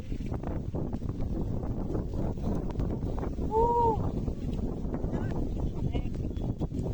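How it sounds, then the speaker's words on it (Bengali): Strong wind buffets the microphone at a hilltop viewpoint in Rangamati, a constant rough roar filling the scene, with a faint whistle-like tone briefly heard midway. "অনেক বাতাস এখানে"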